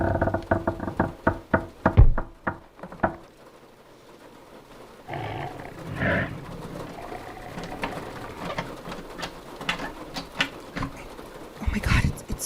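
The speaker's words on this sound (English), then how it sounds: "Oh my god, it's trying the door." In a horror audio drama, a large creature on a porch tries a door: a rapid burst of loud knocks, thuds and rattling for about three seconds, then quieter scraping and clicks with voices in between.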